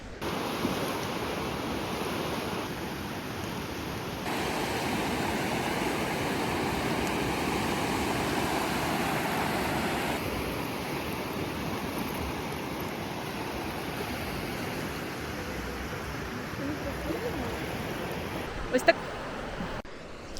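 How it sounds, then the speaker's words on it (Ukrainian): Steady broadband wash of Baltic Sea surf rolling onto the beach at Jurmala, Latvia, continuous and moderately loud, with a brief sharp click near the end. "Море за мною."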